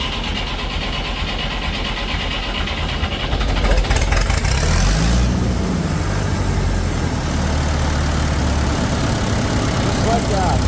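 A Massey Ferguson 165 diesel tractor engine cranks with a loud, rough mechanical churn, catches, and settles into a steady close rumble with a low drone underneath, all without speech.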